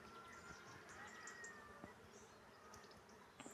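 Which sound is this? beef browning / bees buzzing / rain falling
bees buzzing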